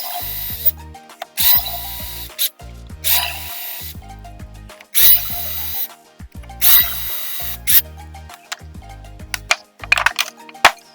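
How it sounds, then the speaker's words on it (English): A power drill bores holes in a clamped wooden Adirondack chair arm, whirring in repeated loud bursts, starting and stopping several times with clicks and knocks between runs. "now I'm drilling a left arm"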